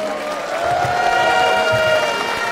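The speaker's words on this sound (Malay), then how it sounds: "Terima kasih Angkasu bagi tepukan sekali lagi." An audience at an outdoor political rally claps in a brief, steady burst of applause, with a sustained tonal hum over the dense clapping.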